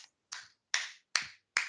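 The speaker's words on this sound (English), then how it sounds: "That's a happy clap." Four or five sharp, separate hand claps spaced roughly evenly, close and crisp with quick decay, standing alone with no talking.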